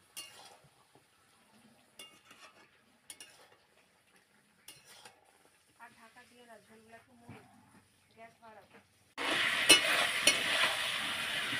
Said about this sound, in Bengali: এবার ভাজা মশলার গুঁড়োটা দিয়ে নেড়ে নেব